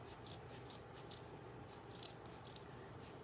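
Scissors cutting through a folded Dollar Tree coco liner, a steady series of close, crisp fibrous snips repeating rapidly, very faint and alone.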